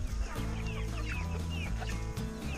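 Several chickens cluck and chatter nearby in a steady, busy flock, with short bright calls overlapping throughout and no talking.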